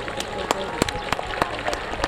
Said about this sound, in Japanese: 皆さん盛大な拍手で選手の後押しよろしくお願いいたします。